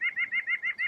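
A white-breasted nuthatch calls six times in quick, even succession, a steady run of nasal, tooting notes heard close and clear over a quiet backyard or woodland background.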